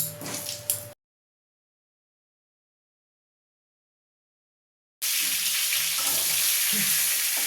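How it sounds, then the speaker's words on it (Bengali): Pointed gourd (potol) fries in oil in a pan, a close steady sizzle heard briefly at the start and again after a silent gap, with light stirring scrapes. "এর মধ্যে আমি এবারে পটলটা ভেজে নেব"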